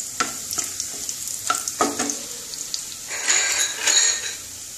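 Whole spices tempering in hot oil for a Bengali yogurt cauliflower dish, crackling and sizzling close up, with a few sharp stirring clinks and spatters in quick bursts.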